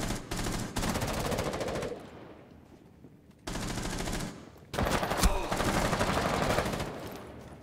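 Rapid automatic gunfire in the video game Rainbow Six Siege rattles in dense, sustained bursts with a brief lull between them, loud and continuous, with voices speaking faintly underneath.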